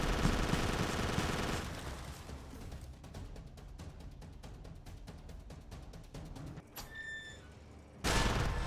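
Rapid machine-gun fire rattles steadily for several seconds in the Jurassic Park: Arcade game, followed by a brief electronic chime and then a sudden loud burst of noise at the end.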